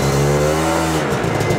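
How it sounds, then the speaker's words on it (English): Ski-Doo snowmobile engine droning steadily, then its tone drops and stumbles for a moment as it shifts into reverse, loud and close throughout. "So you actually hear the motor die for a second."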